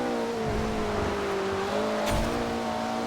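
Brian's riced-out Mitsubishi Eclipse from Fast & Furious drives in Forza Horizon 2, its engine holding a steady, moderately loud hum with slight pitch shifts and a brief burst partway through.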